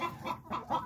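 A broody hen clucks close by, a few soft, rhythmic throaty clucks in quick succession with no talking.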